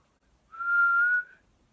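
One steady whistled note, held for under a second, clear and close against silence.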